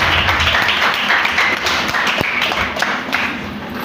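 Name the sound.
pupils applauding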